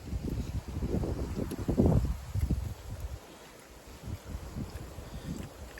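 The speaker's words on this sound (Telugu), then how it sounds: "గాలి అయితే మస్తు విపరీతంగా వస్తుంది ల్యాండ్లో" Strong wind blows across open farmland, buffeting the microphone in loud, rumbling gusts that swell and ease over several seconds with no talk.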